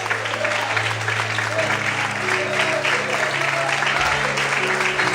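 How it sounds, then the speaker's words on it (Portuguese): A church congregation claps during a worship service while sustained keyboard tones play underneath, giving a steady, even mass of applause throughout. "Quem acredita nisso, levanta a mão, aplauda e adora o Senhor em nome de Jesus."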